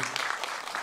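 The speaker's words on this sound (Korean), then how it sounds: "박수 한번 주세요." Audience applause at a talk-cinema event for a Korean film screening, a short steady wash of clapping filling the moment without pause or voices on top.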